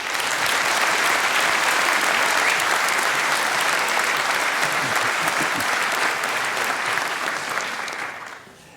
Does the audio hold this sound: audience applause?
yes